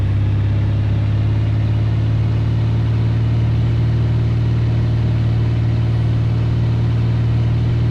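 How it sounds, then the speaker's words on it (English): Aircraft engine in X-Plane 6 as it prepares for takeoff from Dallas runway 34 left, a steady loud droning hum with a strong low tone that holds unchanged from start to finish. "listen to that engine sound."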